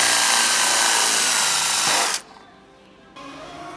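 A power drill bores an 11/32 hole for a carbon fairing bolt on a 1299 Panigale, whirring loudly and steadily for about two seconds before stopping abruptly into quiet.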